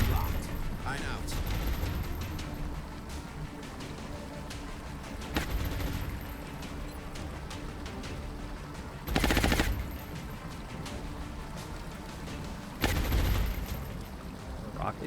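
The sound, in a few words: suppressing gunfire on a heavy floater, from a video game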